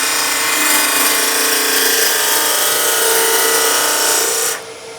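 Wood lathe finishing cut on a turned vase, the tool bevel rubbing as the gouge glides along: a steady, close, continuous scraping hiss that runs evenly and then drops away at the end, with no talking.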